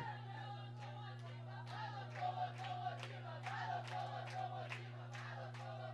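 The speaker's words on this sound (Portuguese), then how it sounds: "Torcida aqui agitada pelo América Locomotiva" Crowd at a flag football 5x5 championship final in Minas Gerais, cheering for América Locomotiva. Distant, chanting voices swell and fade over a steady low hum, with scattered sharper shouts or claps rising through it.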